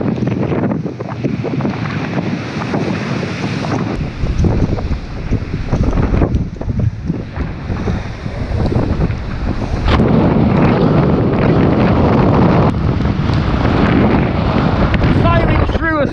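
Strong coastal wind in stormy weather roars continuously across the microphone, with gusting buffets and the wash of waves beneath, loud and unbroken throughout.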